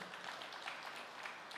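A church congregation applauds during a sermon, a faint, steady wash of many hands clapping with no single claps standing out.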